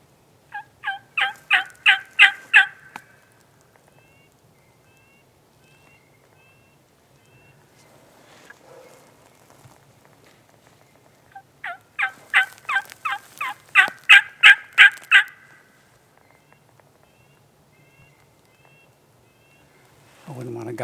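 Wild Merriam's turkeys gobble during a mountain hunt on public land. Two loud, rattling gobble bursts of rapid pulses, each lasting about three seconds, are separated by quiet, with a dull low thump at the end.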